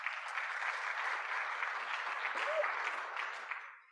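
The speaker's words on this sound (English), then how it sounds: "so let's give them a round of applause" A conference audience at an international rendering conference applauds the moderators with steady, dense clapping that stays even for several seconds and then fades, heard from a distance and without talk.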